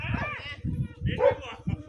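Two or three quick, yappy dog barks sound in a brief burst, fairly near, over a low background rumble.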